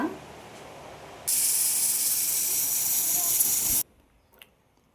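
Pressure cooker whistle releasing steam while cooking tomato pulao: one loud, sustained hiss for about two and a half seconds that cuts off abruptly, with quiet kitchen room tone before and after.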